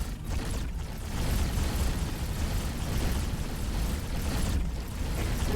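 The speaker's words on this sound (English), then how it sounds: "Explosion imminent. Boom." A ship explodes in a space combat video game, producing a dense, sustained roaring rumble with broad noisy texture that stays loud and steady throughout, with no voices.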